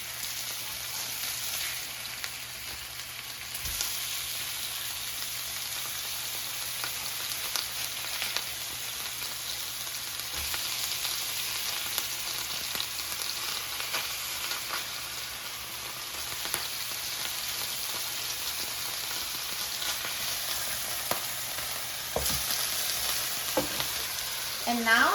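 A cod fillet pan-fries in hot oil with a steady, even sizzle and crackle that runs without a break. It sounds close and fairly quiet, and no one talks.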